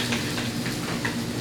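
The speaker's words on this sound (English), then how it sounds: "That's what you want to hear. You want to hear it sizzling." A five-ounce feta and spinach turkey burger patty sizzles steadily in a hot frying pan, a continuous crackling hiss with small pops, close and fairly loud, no voices.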